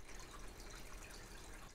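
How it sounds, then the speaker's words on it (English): Steady rush of water draining out of a vapor blaster through its overflow valve, a continuous gurgling wash with faint drips, fairly quiet and unbroken throughout. "Now you can hear the water purging out"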